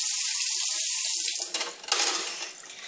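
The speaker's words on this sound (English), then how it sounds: "I'm going to rinse it." A mixing bowl is rinsed under a running kitchen tap. The water flows loud and steady, then splashes and sloshes with a few clinks of the bowl as the stream breaks up.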